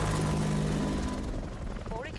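Whirring helicopter rotor noise from the video game Goldeneye: Rogue Agent, a continuous low drone with game sounds layered over it, steady and fairly loud for a couple of seconds.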